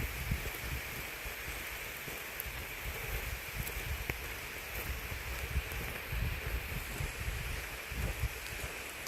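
Steady rain falls outdoors during a walk, a dense continuous hiss with light wind and rustling, constant and moderately loud, no speech.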